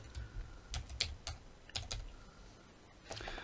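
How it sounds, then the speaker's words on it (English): Keystrokes on a computer keyboard while entering a name into an image-editing program's text tool: irregular clusters of crisp clicks, close and fairly quiet, with short pauses between bursts and no talk. "So let's just type a name here."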